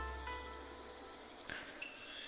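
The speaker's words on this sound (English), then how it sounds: "I can hear the chirping of cicadas" Cicadas chirp at a small shrine in the video game Steins;Gate, a faint, steady high-pitched insect drone with a few brief soft sounds partway through.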